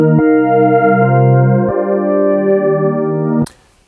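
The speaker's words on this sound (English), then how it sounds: "we're already going to hear some chorus-like characteristics" A sustained harmonic synth or keyboard chord run through a chorus effect on a mono signal, mixed with the dry sound, with a slight shimmering thickness, changing once partway, then cut off into a brief burst of noise.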